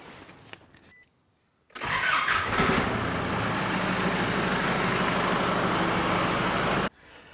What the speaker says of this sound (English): Now I'm going to run the engine for about 10-15 minutes